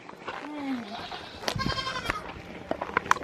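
Goats bleating at a grandmother's country house in rural Jamaica: several wavering bleats, one long and drawn out, heard near and at moderate volume over background talk and outdoor noise.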